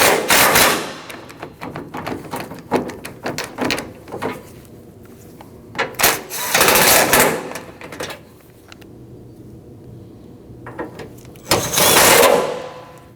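Radiator bolts on a Nissan NV2500 with the 5.6L V8 being tightened: several bursts of ratcheting and rattling metal work, close and fairly loud, separated by quieter pauses.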